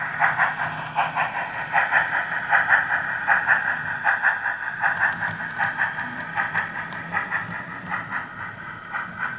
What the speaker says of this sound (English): let's start running our locomotive back through